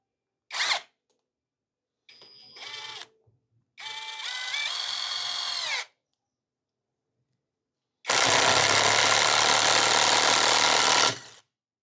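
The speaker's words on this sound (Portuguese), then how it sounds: "a gente vê como é que ela vai sair exercendo a função de parafusadeira" A TECEPO 21V cordless impact driver drives a 6x80 screw into hardwood in separate loud bursts. Short whirring spurts come first, then a longer run, and after a pause a sustained hammering rattle lasting several seconds.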